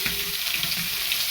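Onions drop into hot oil already tempered with dried red chillies and whole cumin for a Bengali koi fish curry, giving a steady, close, hissing sizzle throughout the short moment.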